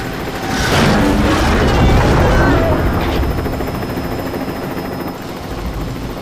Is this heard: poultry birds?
no